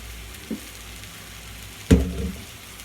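Garlic and onions fry in a pan, a quiet low sizzle that suddenly swells into a louder, close burst of frying and stirring near the end, with a small bump earlier.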